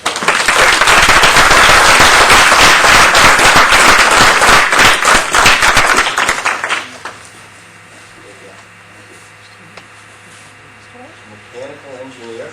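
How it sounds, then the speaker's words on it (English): Applause and cheering fill a town board meeting hall, loud and dense for about seven seconds, then fade out into quiet room tone with a few faint voices. "How about a round of applause for..."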